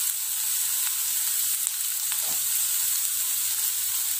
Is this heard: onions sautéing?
yes